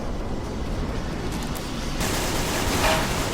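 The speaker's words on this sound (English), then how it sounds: "gunfire, but that's fine." Dense video game gunfire crackles in a continuous, loud barrage of rapid shots and bursts, growing heavier partway through with no speech over it.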